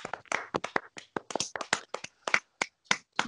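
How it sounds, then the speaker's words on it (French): A small group of podcast hosts clap their hands for each other in a quick, irregular burst of sharp, close claps lasting a few seconds, with no voices. "je pense qu'on peut tous s'applaudir les mecs"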